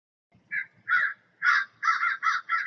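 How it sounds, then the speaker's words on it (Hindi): A cartoon crow caws loudly and close, six harsh calls in an uneven rhythm, with soft background music beneath and no voices. "कालू कौवे के इतना चिल्लाने के बाद"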